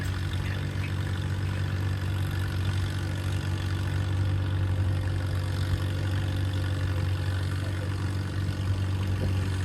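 A 1949 Oliver 66 diesel tractor pulls a sled at an antique tractor pull, its low, steady engine drone holding constant and fairly loud for the whole stretch with no voices over it.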